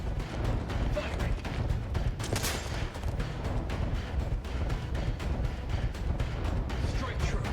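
Gunfire rattles through The Outer Worlds 2 combat, a dense, steady stream of rapid shots and impacts, loud and close, with speech mixed in.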